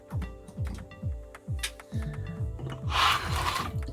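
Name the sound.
cutting excess off the back of a PCB prototype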